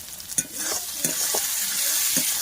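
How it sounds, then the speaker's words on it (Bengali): Spice paste sizzles in hot oil in a pan for a chicken skin curry, a steady frying hiss broken by a few scraping stirs of a spoon close by. "এরকম সুন্দরভাবে কিন্তু মশলাটা কষিয়ে নিলাম"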